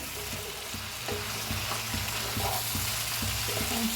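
Okra coated in masala sizzles and fries in a pan while a spoon stirs it, with steady crackling hiss and soft scraping knocks recurring every half second or so, close and moderately loud, no voices.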